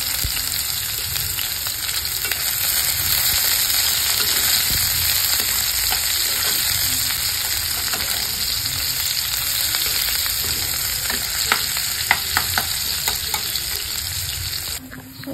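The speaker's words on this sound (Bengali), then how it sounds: "এবারে দিয়ে দেবো আমি পেঁয়াজ, ভালো করে হয়ে গেছে।" Onions frying in a pan for an Eid mutton kosha meal, with potatoes already fried beside them: a steady, close, loud sizzle that runs unbroken with occasional stirring scrapes.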